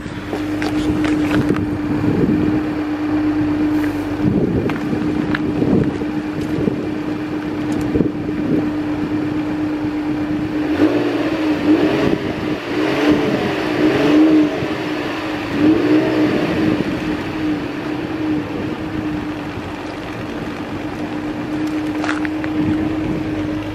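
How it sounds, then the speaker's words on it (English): A 2019 Lincoln MKT idling and revving, its smooth exhaust note holding a steady low drone with a few swelling rises in the middle, heard up close with no talking. "Let me get y'all this exhaust note real quick because the car is smooth."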